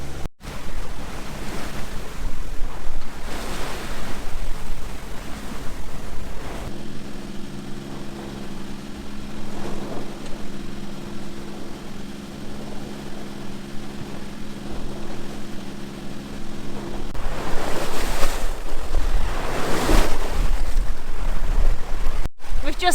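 Heavy surf and wind roar continuously around a headland in the Bay of Biscay, with waves surging and breaking in loud swells alongside a steady low boat motor drone.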